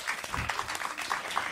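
A comedy show audience gives sparse, scattered clapping at low level, with a few distinct claps and faint murmuring.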